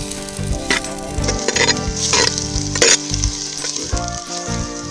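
Onions sizzle and crackle steadily in a hot pan, a loud continuous frying hiss with occasional stirring sounds.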